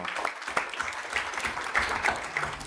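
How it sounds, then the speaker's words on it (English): An audience at a talk breaks into applause, a dense, continuous patter of many hands clapping at moderate loudness for a few seconds. "Round of applause, I think."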